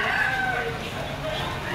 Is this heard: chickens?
yes